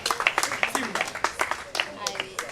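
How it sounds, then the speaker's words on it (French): An audience at a cultural day and gift-giving event for people with disabilities applauds in a quick, steady patter of close hand claps, with voices over the clapping. "On va l'applaudir quand même aussi."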